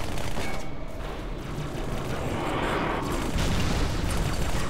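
Dense, sustained gunfire from several weapons in Halo 2, a near-continuous loud fusillade with bursts and booms running through the whole stretch, no voices on top.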